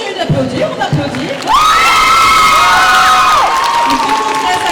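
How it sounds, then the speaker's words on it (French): Crowd at a cosplay competition in a festival hall erupts into loud cheering, with sustained high-pitched screams and whoops over clapping, building abruptly after a few scattered shouts. "Continue d'applaudir, on applaudit."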